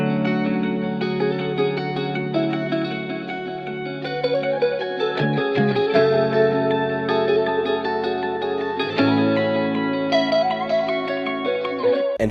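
A layered guitar loop for a beat, thick with chorus and echo effects, with shimmering repeated notes over a sustained low bed, steady and dense throughout with a brief dip in the middle.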